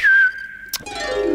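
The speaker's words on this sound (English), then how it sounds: "give a little whistle" A person whistles a clear, steady melodic tone, starting loud and then holding a sustained note, followed by a brief burst and a softer trailing whistle.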